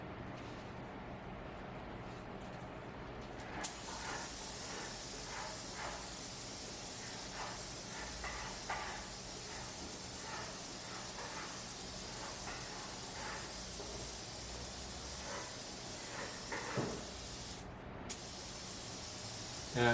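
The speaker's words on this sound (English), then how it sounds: "finish painting the entire box with the lid on" A spray gun coats a wooden nuc box with paint inside a plastic tent in a warehouse, giving a steady hiss that runs almost continuously, briefly pausing near the end, with faint ticks in the background.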